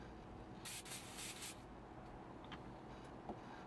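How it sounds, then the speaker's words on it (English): Several short hissing bursts of an airbrush spraying a light coat of paint onto small plastic model aircraft pieces, close by, followed by faint scraping and handling noises in a quiet room. "we just give this a nice spray all over a light coat"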